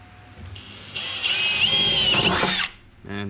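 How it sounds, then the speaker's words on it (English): A power drill bores holes for a battery relocation kit on an FG Falcon, running in one sustained close, loud burst with rising pitch before stopping, then a brief restart. "holes we're drilling are up here"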